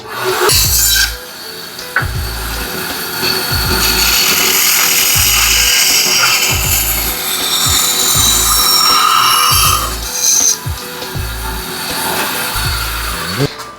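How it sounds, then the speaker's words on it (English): Wood cut on a miter saw at a 50-degree angle for small house-shaped gable pieces: loud, steady rasping strokes repeating about once a second, with no voices. "It's a 50-degree angle if you want to cut it on your miter saw."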